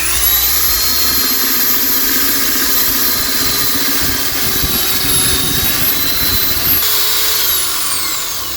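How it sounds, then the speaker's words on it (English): A belt sander smooths curb damage on a car wheel, a loud continuous high-pitched grinding whine held close for the whole stretch, with a slight shift near the end. "go around that with the belt sander as well and just smooth that off."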